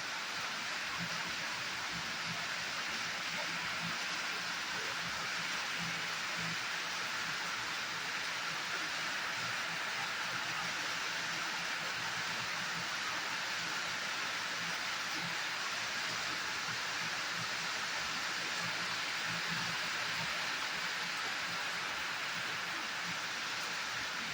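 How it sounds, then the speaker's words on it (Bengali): Heavy rain drums steadily on a tin roof at a home, a dense, continuous wash of noise that stays even and unbroken for the whole stretch, with no voices over it. "কি জোর পড়ছে বৃষ্টিটা।"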